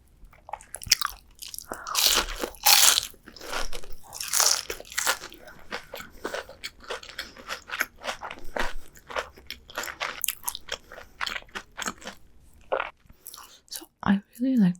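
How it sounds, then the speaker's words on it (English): Close, loud biting and chewing of crunchy fried shrimp, with a steady run of crisp crunches and wet mastication that continues almost without pause, then ends in a few faint sounds. "It's crunchy outside, very moist inside."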